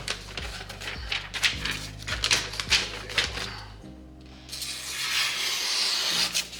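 A sharp bushcraft knife blade is drawn through paper in a series of quick, rhythmic rasping strokes, followed by a longer, steadier shredding pass, close and fairly quiet.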